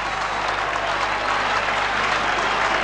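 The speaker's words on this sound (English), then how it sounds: "He's getting a good round of applause too." A 1987 rugby league crowd at the Canterbury versus Balmain match, applauding in a dense, continuous round of clapping that holds steady and loud for the whole stretch.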